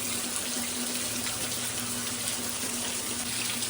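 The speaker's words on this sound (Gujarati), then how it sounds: "પાણી જ પડે છે પાણી વરસાદ જ આવે છે" Heavy water rushes down in a steady, unbroken hiss, loud and close, with a faint low hum underneath.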